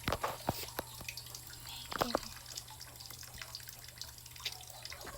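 Water running from a newly built tap setup in a rural province, with scattered drips and splashes over a faint steady trickle, fairly quiet and close.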